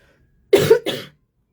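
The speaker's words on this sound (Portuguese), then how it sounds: "Eu continuo ainda com essa tosse, vocês vão me perdoar" A woman coughs twice in quick succession, close and dry, with a short break between the bursts before silence returns.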